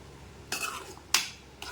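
Salted vegetables for aviyal are stirred in a pot, with three sharp scraping clinks of a spoon against the metal rim over a quiet background.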